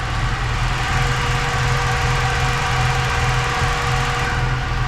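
A Toyota 4AGE engine with individual throttle bodies and adjustable cam gears idling on a dyno, a loud, steady, even drone with dense broadband roar and constant vibration, no talking.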